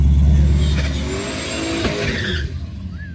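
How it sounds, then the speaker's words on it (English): A full-size race truck does a burnout at a daily driver truck race in Fulton, Mississippi, its engine roaring loudly with screeching tires that fade as the run winds down. "that's a lot better burnout than he was doing earlier"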